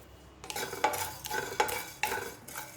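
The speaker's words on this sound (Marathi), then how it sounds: "सुरुवातीला भाजून घ्यायचे आहेत धने आणि जो गरम मसाला घेतलेला होता तो सुरुवातीला भाजून घ्यायचं आहे" Coriander seeds and garam masala dry-roast in a pan for a khare vange brinjal dish, with a spatula scraping and tossing the spices in regular strokes about every half second, close and fairly loud.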